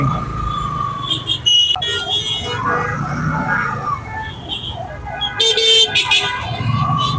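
Vehicle horns honk amid busy road traffic, with short toots rising over the steady rumble of engines, some near and some farther off.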